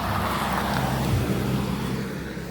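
A car passes by on a road, its engine and tyre noise a steady rushing hum that swells slightly mid-way and fades gently, moderately distant.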